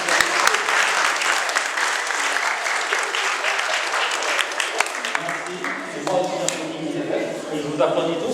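A crowd claps steadily throughout, a dense and fairly loud round of applause that eases slightly toward the end.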